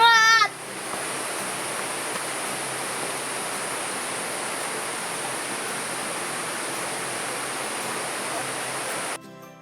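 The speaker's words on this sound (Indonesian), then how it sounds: "Di Narimbang juga terdapat sebuah air terjun atau curug dalam bahasa Sunda yang bernama Curug Ciputrawangi" Curug Ciputrawangi, a waterfall at Narimbang, roars as a steady broadband rush of falling water, close and continuous throughout, with a brief voice at the very start.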